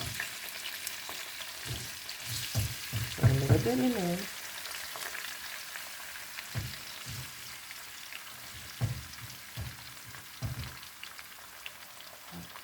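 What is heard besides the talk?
food frying in a pan for Cajun fried fish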